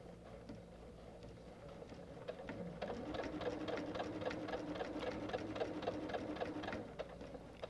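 Sewing machine stitching a quilt along marked lines, starting with slow spaced stitches and then speeding into a fast, steady run of rapid clicking stitches, quiet and close with no talking.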